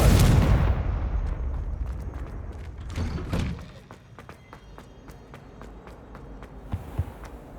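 Confringo spell explosion in Hogwarts Legacy: a loud, close broadband blast that rumbles and decays over a few seconds, followed by a smaller burst and then sparse crackling debris and footsteps trailing off.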